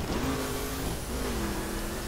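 A car engine revs in the racing video game The Crew, a continuous mid-pitched drone that rises and dips slightly under a dense wash of engine and road noise, with no talk.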